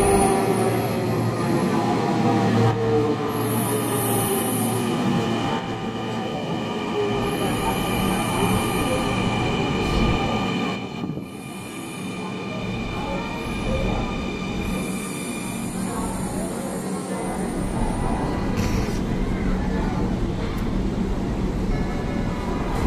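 Dhaka Metro Rail train cabin in motion, a loud steady rolling rumble with high wheel squeal and whining tones rising and falling throughout, and occasional faint voices beneath.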